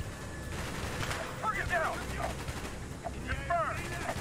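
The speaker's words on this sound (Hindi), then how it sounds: "या देखिए मेरे बटालियन लोग यहाँ भी गोलीबारी कर रहे हैं।" Heavy gunfire in a Call of Duty Black Ops mission, dense continuous bursts over a loud battle bed with a couple of sweeping whistle-like tones, a voice faintly mixed in.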